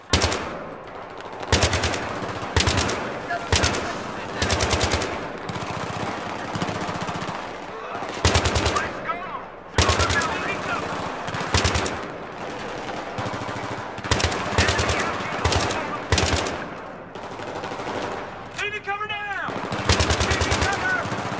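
Rapid gunfire from Battlefield 3, loud repeated bursts of automatic weapons with brief gaps, continuing through nearly the whole stretch with some game noise mixed in.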